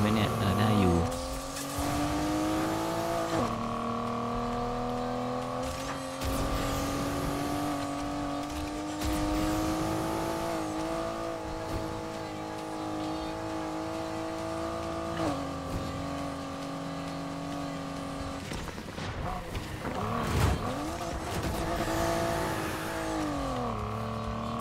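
Buick Grand National driven in Need for Speed Heat, its engine droning steadily with shifting pitch and revs across the whole stretch, tires squealing now and then, with speech heard over the racing.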